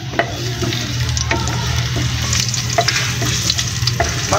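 Garlic sautéing in oil in a pan, a steady close sizzle with a low hum beneath, broken by scattered scraping stirs and clicks of a utensil throughout.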